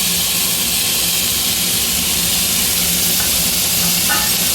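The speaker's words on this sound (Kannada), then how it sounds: "ಹೆಸರುಬೇಳೆನೂ ಕೂಡ ನೀಟಾಗಿ ತೊಳ್ಕೊಂಡು ತುಪ್ಪ ಹಾಕ್ಕೊಂಡಿದ್ನಲ್ಲ ಅದರಲ್ಲಿ ಹುರ್ಕೊಳ್ಳೋಣ" Moong dal frying in ghee in a pan gives a loud, continuous broadband hiss and sizzle throughout, steady and close, with no voice over it.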